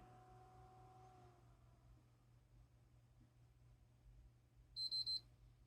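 A failing PS3 Slim console gives a short burst of high electronic beeps near the end, after a long stretch of quiet hum and faint tonal ringing.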